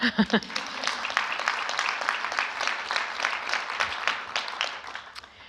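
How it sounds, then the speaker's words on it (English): A room audience at a humanitarian response panel event applauds after a speaker, a moderate patter of clapping opening with a few sharp individual claps and continuing evenly before tapering at the end. "I see you want to applaud."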